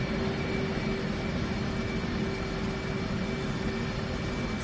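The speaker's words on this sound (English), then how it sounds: "Now we're going to start up engine 1." F/A-18 jet engine 1 cranking over during a cold start in the DCS flight simulator, a steady loud broadband whine and airflow roar with a constant high tone, unchanging throughout.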